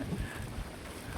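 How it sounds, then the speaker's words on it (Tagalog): Strong gusting wind buffets a cold highland car campsite, a close, low rumbling roar of wind across the microphone, brief and continuous with no voices. "Lakas ng hangin"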